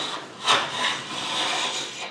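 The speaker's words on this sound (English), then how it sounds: "you just simply scrape away all of that excess glue" Scraper dragging across wood to remove excess dried glue, a close, continuous rough rasping with a brief stronger stroke near the start.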